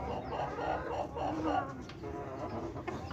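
Aseel hen, an Amroha breeding bird, clucking in short soft bursts close by over a steady background murmur, with people talking nearby.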